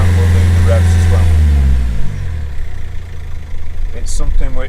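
A car engine worked with a ghost ring accelerator rumbles loudly at low pitch for about two seconds, then drops away, with someone talking close by over the quieter tail.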